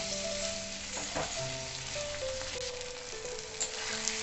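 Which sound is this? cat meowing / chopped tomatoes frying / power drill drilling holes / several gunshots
chopped tomatoes frying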